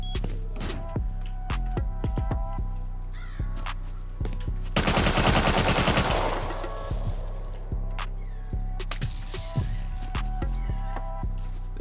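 Video game base raid: an auto turret fires long, rapid bursts of gunfire, loud and close, broken by a dense sustained volley in the middle and scattered single shots around it.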